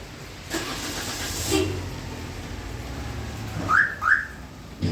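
A 2011 DFM car engine is started remotely by phone; it turns over and starts, followed by two short horn chirps, then a steady idle.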